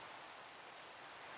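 Steady, faint rain hiss in a Minecraft game, with drops coming through a roof, a continuous even wash of noise without speech.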